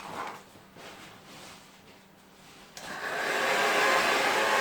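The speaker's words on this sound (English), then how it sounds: "Now this particular blow dryer, we've used it in other tests." An 1800-watt blow dryer, pushed to the limit of a DeWALT battery-powered system, switches on partway through with a loud, steady broadband whoosh that rises and holds close to the mic after a quieter lead-in.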